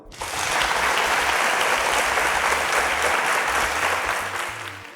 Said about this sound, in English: A round of applause for Deborah.